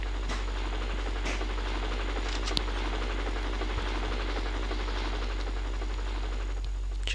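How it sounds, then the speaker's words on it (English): A helicopter in a battle royale video game drones on steadily for several seconds, a low constant rotor hum with a few faint clicks and taps over it, no voices. "I hear a helicopter."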